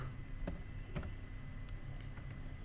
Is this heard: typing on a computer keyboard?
yes